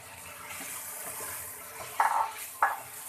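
Fried potato and cauliflower pieces being stirred into a cooked spice masala in a pan, a soft steady sizzle with two sharp scraping clatters near the end, close by and without speech.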